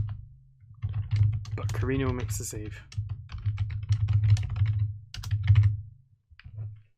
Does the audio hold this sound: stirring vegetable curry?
no